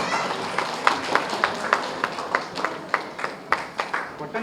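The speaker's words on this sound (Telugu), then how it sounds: "మనందరం కూడా మన చప్పట్లతో వారందరినీ అభినందించాలి." An audience at a children's dance performance, with the district collector among the guests, claps in a steady rhythmic beat, each sharp clap evenly spaced and moderately close, with no talk over it.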